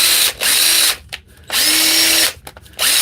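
A DeWalt power drill runs loud and close in three sustained whirring bursts, each broken by a brief pause as the trigger is released and squeezed again.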